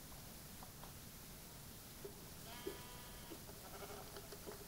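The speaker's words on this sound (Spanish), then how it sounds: "por acá hay unas ovejas" Sheep in a video game bleat faintly in a couple of short calls over a steady hiss of background noise, with no talking.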